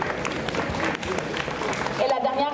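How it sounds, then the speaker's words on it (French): An audience applauds at a costume masquerade contest at a fan convention, a steady wash of clapping throughout, with a voice talking over it near the end. "On l'applaudit."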